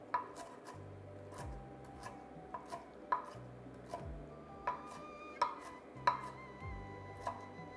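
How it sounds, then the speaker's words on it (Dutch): Knife chopping flat-leaf parsley finely on a cutting board, with a steady run of crisp, close taps at an irregular rhythm, quiet and without talk. "Platte selderij fijn hakken."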